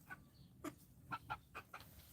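Meat chickens, much larger than layer hens, clucking in short separate bursts, about six soft calls spread over two seconds, fairly close with a quiet farm background.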